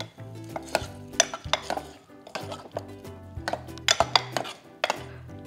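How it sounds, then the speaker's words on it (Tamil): Spinach dal is stirred in a metal pressure cooker, giving a series of close, sharp ladle clinks and scrapes against the pot in an irregular rhythm, with no talk. "இப்போ வந்து இதை அழகாக மிக்ஸ் பண்ணிவிட்டு நம்மளோட பவுலில் போட்டுக்கலாம்"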